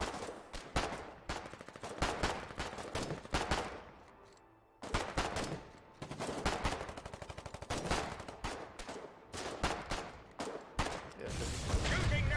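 Rapid bursts of gunfire from the war game Foxhole crack in dense, repeated volleys, with brief pauses between strings of shots, loud and close, with faint voices underneath at times.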